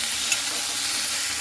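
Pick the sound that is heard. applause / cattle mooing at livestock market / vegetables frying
vegetables frying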